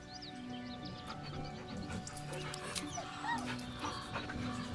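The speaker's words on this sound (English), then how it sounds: "The dog whimpers nervously" A dog whimpers and whines in the fantasy role-playing video game Baldur's Gate III, soft nervous cries rising over a steady ambient game backdrop with faint background sounds.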